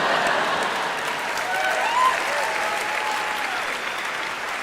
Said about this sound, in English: And we applauded.